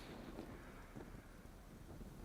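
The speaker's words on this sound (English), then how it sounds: "But definitely the wind has picked up significantly here." Strong gusty wind at an outdoor cyclocross race, blowing as a continuous low rushing buffet on the microphone, faint and steady, with no voices.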